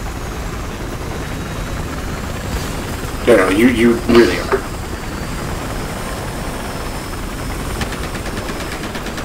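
A helicopter in the Battlefield Hardline game, its steady rotor drone running under the whole stretch while voices talk over it, with a louder burst of activity in the middle.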